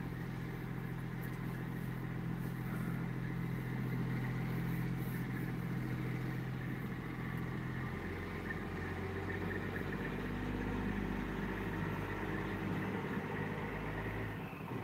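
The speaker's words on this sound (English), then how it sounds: "So I'll be listening to these trucks all night." Trucks idle and drive nearby at night, a steady low engine rumble with shifting tones that swell and fade as vehicles move, heard alone without talk.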